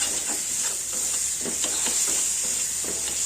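Ginger, cumin and chili powder frying in a pan for a quick fish curry, giving a constant bright hiss and sizzle with faint stirring scrapes underneath.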